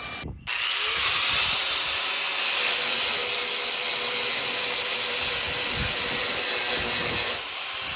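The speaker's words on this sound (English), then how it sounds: "He's gonna go ahead and get it drilled out." Drill boring out a rivet in a chopped, shortened 3/4-ton Ramcharger frame, a loud, steady, grinding metallic whine that runs continuously close by for the whole stretch before easing slightly at the end.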